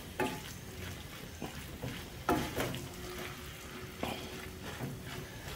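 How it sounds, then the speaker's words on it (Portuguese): Seasoned meat frying in a pan is stirred, giving a steady close sizzle broken by several scraping and clinking strokes of the utensil against the pan, with no talking. "Agora vamos vir aqui mexer para ver como é que vai ficar essa nossa carne."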